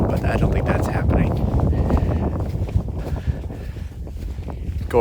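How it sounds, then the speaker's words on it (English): Breezy wind sweeps over sand dunes on a fine day, a rough gusty rush buffeting the microphone close up, with someone talking through it. "It's kind of breezy."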